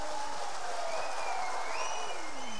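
A studio audience applauds during a Turkish folk music TV show in Kepez, steady clapping mixed with lingering tones and some faint voices underneath.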